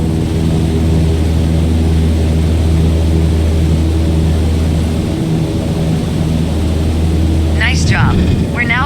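Aircraft engine throttled back to 2,300 RPM in Microsoft Flight Simulator 2020, a steady, loud, droning hum that holds constant throughout, with a brief voice near the end.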